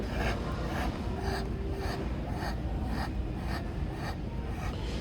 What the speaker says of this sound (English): You can hear that breathing.